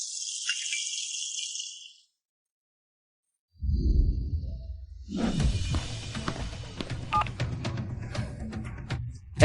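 Telephone dialing tones sound first as a steady electronic beep. After a brief silence comes a rumbling, rattling stretch of handling and movement noise with scattered clicks, fairly close.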